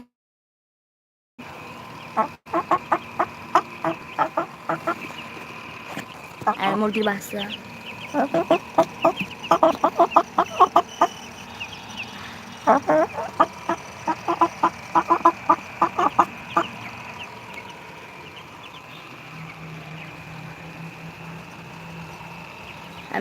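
Chickens clucking close by in short irregular bursts, with someone talking in between the calls.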